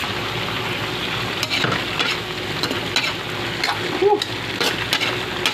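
Carrots and other vegetables stir-fried for pancit miki bihon, a continuous crackling sizzle with scraping and clattering from stirring throughout, fairly close.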